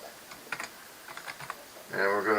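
Typing on a computer keyboard, a few quick bursts of light clicks, faint and close, followed by a brief voice at the end.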